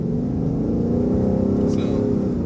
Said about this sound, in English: And that did an auto blip as well.